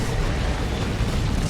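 A huge orbital strike detonates in Dawn of War 2 amid a 3v3 battle with Space Marines, Genestealers and a Land Raider, a dense, sustained roaring blast that fills the clip at steady loudness.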